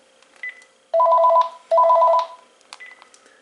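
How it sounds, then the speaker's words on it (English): Intercom call tones on a Panasonic KX-TG5243 cordless phone handset: a short beep, then two loud, close electronic ring bursts in quick succession, followed by faint softer beeps. "Testing out the intercom feature on the second handset."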